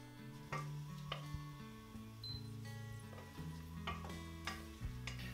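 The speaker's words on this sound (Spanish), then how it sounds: "Añadimos 40 ml de aceite de oliva y los dientes de ajo restantes laminados. Los freímos hasta que empiecen a dorarse." Sliced garlic cloves frying in olive oil in a pot, a steady soft sizzle with occasional sharp clicks and taps of a utensil against the pan.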